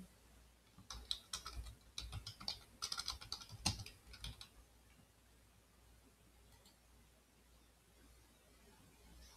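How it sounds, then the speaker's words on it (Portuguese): Quick bursts of close computer keyboard typing while entering text into an online quiz form, rapid clicking keystrokes for a few seconds, then near-quiet with a faint hum and an isolated click. "Aqui eu vou digitar qualquer coisa"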